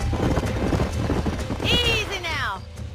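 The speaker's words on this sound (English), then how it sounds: "These are fine horses." Hooves clip-clop in the video game Red Dead Redemption, followed by a horse's high whinny near the end, all beneath a voice speaking.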